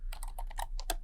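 Keys on a computer keyboard are tapped in a quick, uneven run of about ten close, crisp clicks while an email address is typed, with a faint low hum underneath and no talking.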